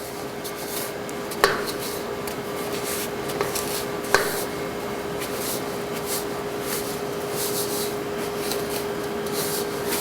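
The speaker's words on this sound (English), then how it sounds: "Just going to get this together, blend it, and actually mash it." Butter and sugar are mashed together by hand in a bowl for biscotti dough, giving a steady close scraping and rubbing with a couple of sharp clinks of the utensil against the bowl.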